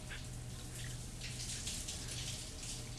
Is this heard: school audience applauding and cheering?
no